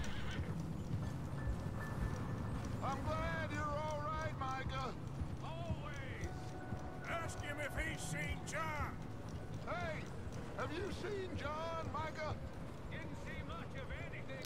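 A horse in the video game Red Dead Redemption 2 clip-clops steadily and whinnies several times over a constant background, while a player talks throughout.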